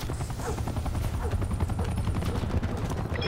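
An attack helicopter in the Black Ops 4 video game roars as a dense, continuous rotor drone, mixed with rapid gunfire in a loud, busy battle scene.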